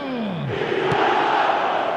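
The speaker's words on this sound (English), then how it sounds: "the crowd level has gone up a notch or 10" A stadium crowd in eFootball PES roars after a goal, a dense, loud swell of cheering that fills the scene as a whistle-like tone drops away at the start.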